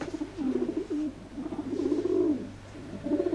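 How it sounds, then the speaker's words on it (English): Soft, throaty pigeon cooing, a series of low rolling coos repeating close by with short pauses between phrases. "I already have Billy Bustle's pigeons to contend with in the afternoon"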